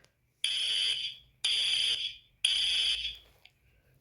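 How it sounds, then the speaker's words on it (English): Fire alarm sound effect: three evenly spaced, shrill electronic blasts, each lasting about half a second before fading, with brief silences in between. "The original version of this is actually just a fire alarm sound effect."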